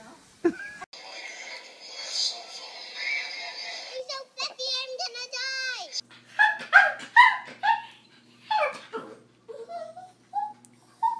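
A big dog barks and yips in several bursts, close and loud, mixed with whimpers, while people talk and laugh around it.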